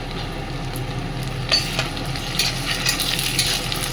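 Garlic stirred and frying in a pan, a steady close sizzle with scraping stir strokes growing more frequent in the second half, no voices.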